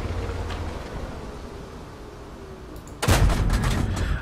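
A tank gun fires a shell in a tank video game, one loud boom with a rumbling tail that breaks through steady background engine noise late in the moment.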